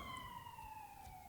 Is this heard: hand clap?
no